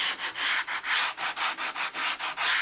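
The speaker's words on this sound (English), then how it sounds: "Then some 60 grit coarse sandpaper to round off the edges." Coarse 60-grit sandpaper rubbing back and forth over wooden edges to round them, a steady rhythmic rasp of about a dozen close, evenly spaced strokes with brief pauses between.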